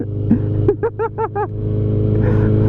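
A motorcycle puttering along in first gear gives a steady, close engine drone, with a quick run of chirping tonal bursts near the start.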